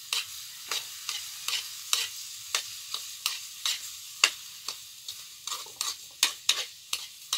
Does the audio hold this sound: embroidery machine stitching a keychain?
no